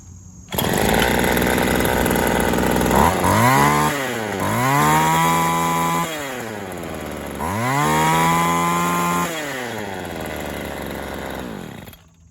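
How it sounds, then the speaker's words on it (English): A cheap string trimmer's small two-stroke engine fitted with a HIPA carburetor starts and runs, buzzing loudly up close and revving up and down in several swells between idle stretches. "Okay, she starts and she runs okay"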